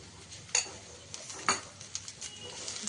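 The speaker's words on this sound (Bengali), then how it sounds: "আলুটা দিয়ে মশলাটা খুব ভালো করে মিক্স করে নেব" Grated boiled potato mixed with spices in a pan, a couple of distinct clinks and scrapes of a spoon on metal among softer stirring sounds, fairly quiet.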